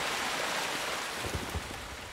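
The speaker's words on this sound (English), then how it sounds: "Man, that rushing water is really loud." Loud, continuous rushing water in the game Len's Island, a dense broadband roar at a steady level with a few low splashing pulses, no voices.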